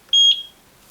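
A Eufy E340 floodlight dual security camera gives a single short, clear, high-pitched electronic beep after its sync button is pressed, loud and alone in a quiet room.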